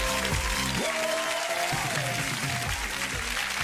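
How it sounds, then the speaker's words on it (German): Audience applause on a German comedy improv show, steady clapping blended with music that has a sustained melodic line, loud and continuous throughout. "Ein großer Applaus."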